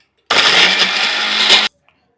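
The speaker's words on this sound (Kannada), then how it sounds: "ಮಿಕ್ಸಿಗೆ ಹಾಕ್ತೀನಿ." An electric mixer grinder grinding masala for horse gram curry roars in one loud, steady burst of about a second and a half, starting and stopping abruptly.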